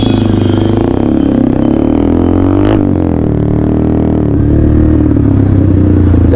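Motorcycles including a KTM Duke and a Yamaha FZ 250 idle and rumble as they pull up and line up near a bridge, a loud close engine drone with a brief rev in the middle.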